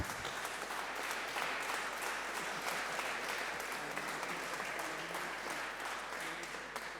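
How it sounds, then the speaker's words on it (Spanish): Warm, sustained applause from an audience at a panel event in Chile, welcoming the Senate president; dense clapping holds steady throughout at a moderate distance, with faint voices underneath. "Nos recibe un aplauso caluroso."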